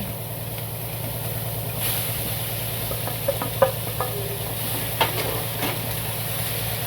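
Onion, coconut and coriander sauté in a pan for a drumstick-flower vegetable dish, giving a soft steady sizzle with a few light scraping and stirring clicks, fairly quiet and close, with no talking.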